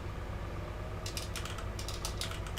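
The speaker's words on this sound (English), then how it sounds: "just typing away, filling out our wheel here" Someone types on a computer keyboard in quick irregular bursts of clicks, fairly close, over a steady low background hum, with no talking.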